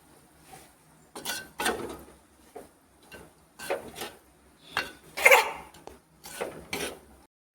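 Clam meat is stirred in oil in a pan with a metal spoon, giving a series of separate scraping, clinking strokes with short quiet gaps between them, close and moderately loud.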